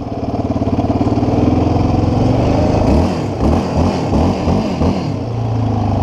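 Quad ATV engine with a manual clutch, pulsing steadily at idle and then revving up and down after being shifted into first gear, loud and close with no talking.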